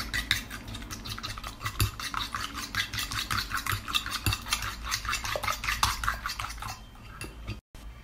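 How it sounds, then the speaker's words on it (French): A whisk or spoon beats a honey mixture in a bowl for a homemade hand-softening recipe, producing steady, rapid clinking and scraping close by with no talk, ending abruptly. "ajouter une cuillère de miel, mélanger, battre l'ensemble"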